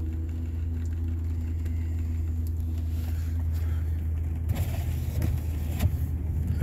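A car engine runs in a shop after a cold start, with a steady low rumble close by and a few faint clanks and rattles over it.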